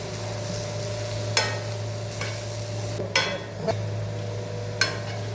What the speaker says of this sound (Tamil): தேவைப்பட்ட மிளகுத்தூளும் கொஞ்சம் தூக்கலாக தூவி நல்லா வதக்கி விடலாம்